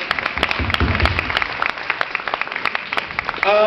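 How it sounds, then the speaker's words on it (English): A brief round of applause from an audience at a university hip-hop event, scattered sharp claps of modest density that fade before a voice cuts in at the end. "Can you just give them a round of applause?"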